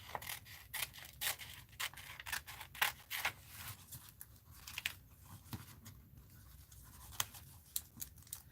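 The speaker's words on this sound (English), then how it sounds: "My bigger scissors to reach in there better." Bigger scissors cut paper for a journal charm in a series of close, crisp snips and slicing crunches at an irregular rhythm, quiet overall, with no talking.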